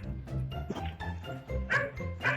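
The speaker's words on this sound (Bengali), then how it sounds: "আমাদের বাড়িতে কোনো কুকুর আছে তো ওদের আওয়াজ আসছে" Dogs bark and yap in quick, repeated bursts, fairly loud, with some whimpering between barks.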